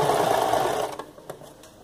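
A sewing machine runs in a fast steady burr as it stitches fabric scraps into a small ruffled skirt, then stops, followed by a few faint clicks and handling noises.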